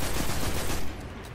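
Rapid gunfire in the Destiny 2 video game, a quick burst of dense repeated shots that fades out after about a second.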